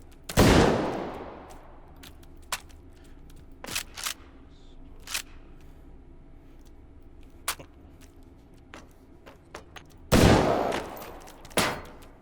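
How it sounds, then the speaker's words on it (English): A shotgun fires in the VR game H3VR with sharp, loud blasts near the start and again near the end. Quieter clicks and handling taps fall in between, and no one speaks. "Let's take out our shotgun."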